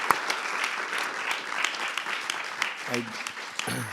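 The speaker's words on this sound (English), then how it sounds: "So a round of applause for both Ardi and Brenna." Audience at a book launch for Dr. Ardi Imseis' work on the United Nations and Palestine applauds, a steady, dense patter of many hands clapping indoors, with brief voices near the end.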